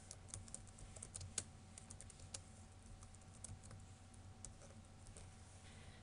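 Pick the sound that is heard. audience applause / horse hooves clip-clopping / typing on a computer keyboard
typing on a computer keyboard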